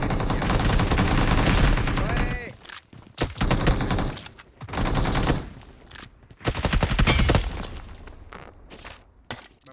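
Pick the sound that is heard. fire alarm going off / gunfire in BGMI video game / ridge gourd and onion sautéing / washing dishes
gunfire in BGMI video game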